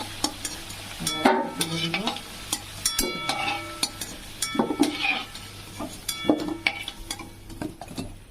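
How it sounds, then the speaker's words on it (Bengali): Cumin seeds, cinnamon and whole cardamom sizzle in hot oil while a spoon stirs the pan, with a steady crackling hiss broken by repeated metallic scrapes and clinks. "এবার আমি তেলে একটু জিরে দিয়ে দিয়েছি, একটু দারচিনি গোটা এলাচ"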